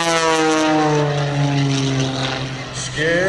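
Skip Stewart's aerobatic biplane Prometheus performing at the 2013 Vero Beach air show, its loud propeller engine droning steadily and shifting in pitch as it maneuvers overhead.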